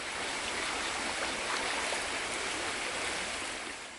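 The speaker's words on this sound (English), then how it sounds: "I'll usually go down to the creek and just go and chill in there and splash around a bit" A jungle creek flows with a steady, broad rushing wash of water, close and continuous with no other sounds.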